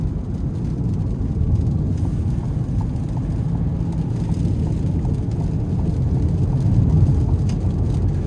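Steady, loud engine drone from a 2026 Ford Bronco Sport Big Bend with a turbocharged 3-cylinder, heard from inside the cabin while accelerating, a continuous low rumble that swells slightly toward the end with no talk.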